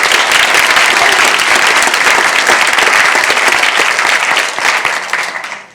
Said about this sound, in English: One more round of applause for those kids.